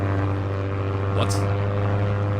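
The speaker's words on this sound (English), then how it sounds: "Why does the plane sound like a propeller?" Propeller plane in the video game Misery, its engine droning steadily and close throughout, with a brief higher swish partway through; a voice speaks over it.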